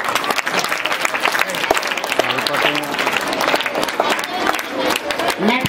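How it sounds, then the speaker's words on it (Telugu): Loud, sustained applause from an audience at a student award ceremony for 10th class students in Ramachandrapuram, steady clapping filling the whole stretch with some crowd murmur beneath. "గట్టిగా చప్పట్లతో"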